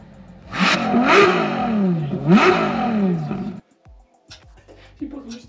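A Ferrari LaFerrari V12 revs loudly twice in quick succession, each rising, howling blip falling away. A quieter, rougher tail follows as the sound dies down.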